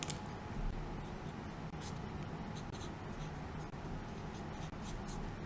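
Pen or marker scratching out notes and numbers during a geometry lesson on triangle angle bisectors, soft intermittent strokes close by over a steady faint hiss.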